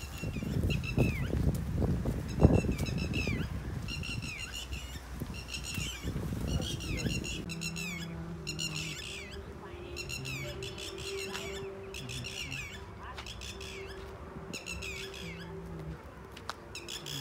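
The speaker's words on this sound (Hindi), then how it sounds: "आपको शायद पीछे चिड़िया की आवाज़ सुनाई दे रही हुई या नहीं पता नहीं" Birds near a farm field give repeated high chirping calls in a regular rhythm, moderately loud, after a stretch of handling noise, with a low hum underneath.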